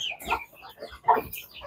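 Farm chickens being fed, giving a few scattered, fairly close clucks and short squawks with pauses between them, no talking.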